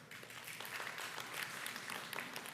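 A lecture hall audience applauds at a science talk, a dense patter of many hands clapping at once, steady and moderately distant for a couple of seconds.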